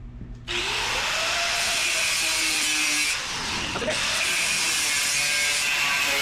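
A power tool cuts through a sheet metal center section for a 1954 Chevy truck dash repair, a steady loud high-pitched whine and grind running continuously after a short start, close up.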